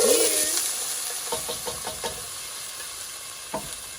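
Food sizzles in a big oiled pan with a loud, steady hiss, broken by a few light scrapes and taps from stirring. No one speaks.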